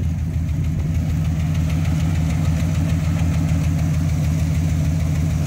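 A 1968 AMC Javelin with a never-rebuilt 343 high-compression Typhoon V8 and 4-speed idles close and loud, a steady, even low rumble with a fine rhythmic ticking pulse throughout.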